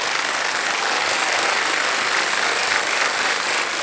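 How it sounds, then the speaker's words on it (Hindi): Studio audience on the KBC Season 16 quiz show set breaks into steady, sustained applause, a dense wash of clapping that holds evenly loud from start to finish with no voices over it. "तालियां बज जाए"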